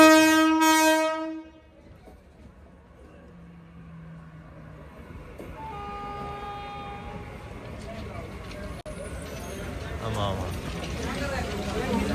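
At Sonipat station on the New Delhi to Kalka Shatabdi Express route, a long loud train horn sounds first, then a quieter stretch follows as the train pulls away with building rumble and a faint second horn, while people talk nearby.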